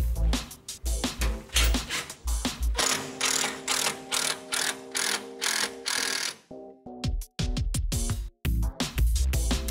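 A power driver whirs in repeated short bursts as screws are driven into the rails of a rolling shutter, with brief pauses between each run and a ratcheting mechanical rattle.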